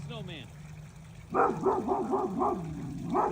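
A dog barks at a snowman toy, a run of six or seven quick, fairly close barks in a steady rhythm that begins after a brief low hum and some faint high squeaks.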